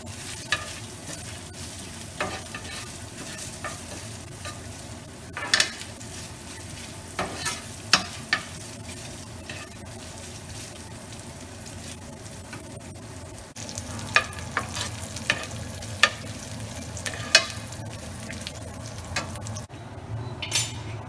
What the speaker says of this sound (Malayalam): ചൂടായ എണ്ണയിലേക്ക് ഞാൻ കുറച്ച് തേങ്ങ വറക്കാൻ പോവുകയാണ്